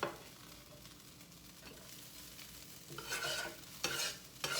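Fried rice and vegetables scooped out of a hot skillet, light sizzling under scraping spatula strokes that grow louder in bursts toward the end.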